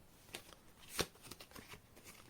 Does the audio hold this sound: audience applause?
no